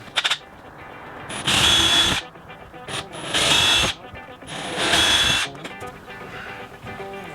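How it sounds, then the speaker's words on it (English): A power drill whirs in three bursts of about half a second to a second each, drilling pilot holes for a boat windlass, loud and close, with handling clatter and faint sounds between the runs. "we're going to drill our holes first. We'll do some pilot holes"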